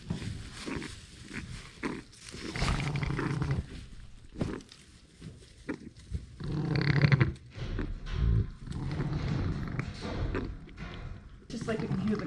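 Distressed lamb making wet gurgling, rattly breathing sounds close by, mixed with handling noises and rustling, under people talking quietly nearby.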